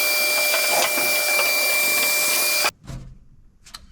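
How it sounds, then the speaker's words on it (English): Shop vacuum cleaner roaring steadily up close as it sucks up flap disc grinding debris, seam sealer and paint during rust repair, then cutting off abruptly, leaving quiet clunks and handling noises. "We'll get all that vacuumed up real fast"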